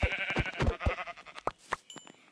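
Sheep bleating in the Minecraft video game, a run of short repeated bleats close by with brief gaps between them, alone without any talk.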